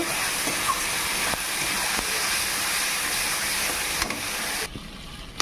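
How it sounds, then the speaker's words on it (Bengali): A spice masala of salt, turmeric and chili powder fries in a pan with a loud, steady, close hiss and sizzle that drops off sharply just before the end. "এটাকে ভালো করে ভেজে নেব, মশলাটাকে কষিয়ে নেব।"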